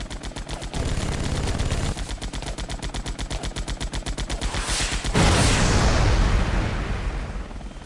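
Rapid automatic enemy gunfire in the Vietnam-era air combat game Air Conflicts: Vietnam, loud sustained bursts of evenly spaced shots, with a heavier rumbling blast swelling in near the end.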